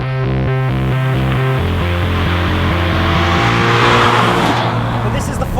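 A Radical sports car with a Ford Mustang V6 engine rated at 350 brake horsepower roars past at close range, engine revving hard through gear changes before fading into rushing tire and wind noise, with a voice talking over it.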